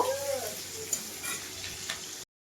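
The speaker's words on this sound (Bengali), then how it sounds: "তো পেঁয়াজটা মোটামুটি ভাজা ভাজা করে নিয়েছি" Chopped onions sizzle in a pan with five-spice seeds, a soft, steady frying crackle broken by a few light stirring taps, close and fairly quiet before it cuts off abruptly.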